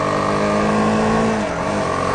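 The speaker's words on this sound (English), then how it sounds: "when you wind it up to get going, it becomes a bit buzzy" A BMW G310R motorcycle engine revving hard, a loud, steady, buzzy drone held at high revs from close by, with no talking.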